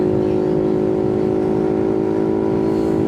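A small Boom Vader 125cc motorcycle engine with a Nibbi carburetor holds a high, steady rev with a constant droning whine, loud and close, no voices.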